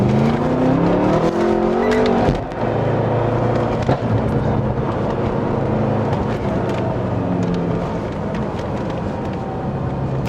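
A BMW F10 M5 sport sedan driven on the road with its paddle shifters, the engine droning loud and near and rising in pitch before a shift drops it back to a steady cruise.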